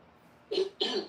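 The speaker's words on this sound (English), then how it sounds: "Y'all hear him clear his throat." Two short, rough throat-clearing bursts from a man, close and distinct, separated by a brief pause against quiet background.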